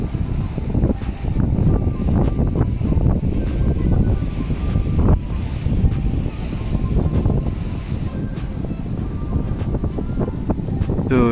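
Steady wind and surf at Teluk Ramunia beach near Desaru, Malaysia, a constant loud rushing roar with gusty buffeting on the microphone and no voices.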